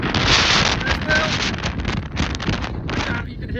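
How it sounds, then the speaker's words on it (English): Strong gusts buffet the microphone on the snowy summit of Glas Maol, a Glenshee Munro, in a blizzard, loud roaring and rumbling wind that rises and falls continuously. "Seriously windy."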